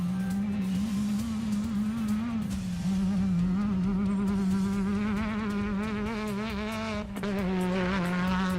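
A Class 10 Alumacraft off-road race car at a Mexican desert rally, its engine droning and buzzing steadily as it passes, with a higher whine rising and falling toward the end.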